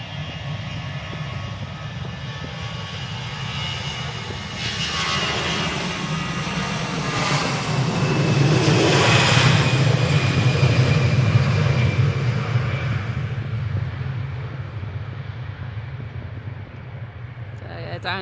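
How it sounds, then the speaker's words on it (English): An EasyJet jet airliner at Manchester Airport lining up and taking off, a steady, loud engine roar that swells toward the middle as thrust builds, then eases away, heard from a distance outdoors. "EasyJet is now lined up, ready to go"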